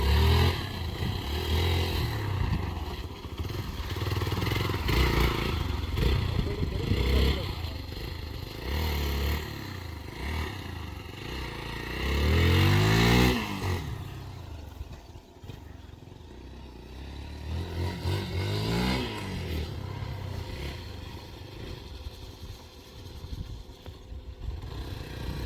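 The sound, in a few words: Hero Xpulse 200 motorcycle riding on monsoon ride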